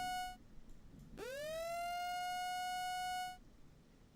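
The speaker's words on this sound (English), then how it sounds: "And Frankfort, just rain and sirens at this point." An outdoor warning siren during a tornado warning in Frankfort, Kentucky, rises sharply in pitch and holds a steady, loud wail for about two seconds before cutting off.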